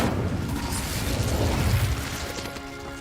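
Incendio fire spell cast in Hogwarts Legacy, a sustained roaring, crackling burst of magical flame with heavy low rumble and mechanical clatter, loud and continuous for a few seconds without talk.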